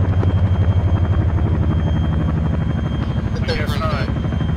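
A Chinook twin-rotor helicopter in the military simulation game Arma drones with a steady, loud rhythmic rotor thump throughout, while people talk over it.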